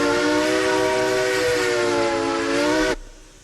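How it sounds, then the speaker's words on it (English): A deep, rich steam locomotive whistle in the RailRoads Online game blows one long, steady chord of stacked tones, loud and close, then cuts off abruptly, leaving a fading hiss. "Great new whistle on the locomotive, have to say."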